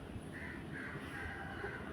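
Crow cawing in the horror game Granny: a few short, hoarse caws repeating over a steady low ambient hum, fairly faint and set back from the listener.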